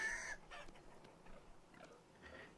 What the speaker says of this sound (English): Yes, everyone hears you, chickens.